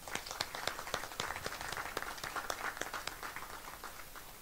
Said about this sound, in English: let us give a very good applause for BIVA